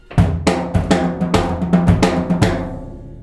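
Drum solo in 16th notes with accents, a steady run of sharp, punchy hits with stronger accented strokes at a moderate tempo, loud, close and alone.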